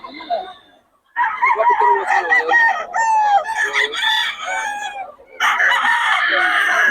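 A young rooster, a stag, crows close by several times in a row, with the crows running together and people's voices around it.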